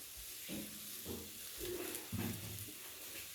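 Chopped tomatoes are stirred into onions frying in a pan for katla fish curry, a soft steady sizzle broken by a few muffled scraping stirs, quiet and close with no talking.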